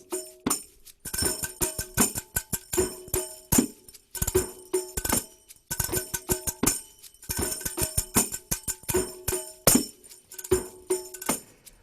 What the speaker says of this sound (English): I can actually play the zills with my fingers